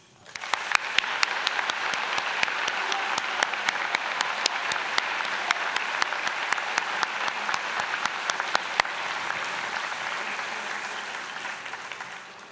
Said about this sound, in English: And I'd like to give you a round of applause.